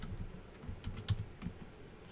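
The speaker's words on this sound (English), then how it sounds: "Now you can start typing the formula" Quiet typing on a computer keyboard while entering a spreadsheet formula, a loose run of soft irregular key clicks with short pauses between them.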